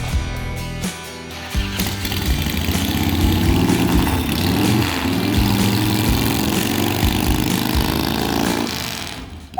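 A Harley-Davidson Evolution motorcycle engine runs on the road with a loud, continuous rumble that swells steadily under throttle and carries close and strong throughout, with no voices.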